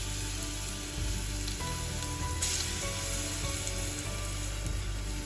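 Garlic fries in hot oil in a pan, a close, constant hissing sizzle with occasional sharper spatters and faint stirring clinks, steady throughout with nobody talking.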